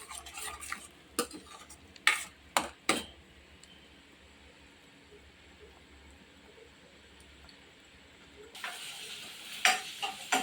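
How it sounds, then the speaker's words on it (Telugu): Egg curry mixture with tomatoes, onions and green chillies is stirred and broken up in a frying pan, loud sharp scrapes and clinks coming in bursts around a quieter stretch of faint sizzling. "ఇప్పుడు వాటిని కలుపుకోవాలి ఈ చిన్న చిన్న ముక్కల్లాగా చేసుకోవాలి"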